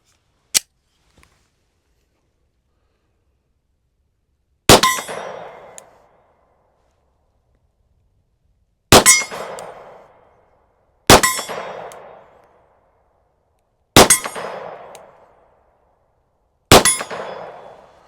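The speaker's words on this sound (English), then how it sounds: "They're both hitting the steel fine, they're both shooting fine." Six sharp SIG P365 FUSE pistol shots ring out at uneven intervals, each a loud crack followed by a bright metallic clang off steel targets that decays over about a second; no talking.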